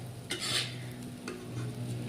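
Mutton pieces go into rice frying in a pot for biryani and get stirred, with a spoon scraping and clinking against the metal over a faint sizzle for about two seconds, no talking.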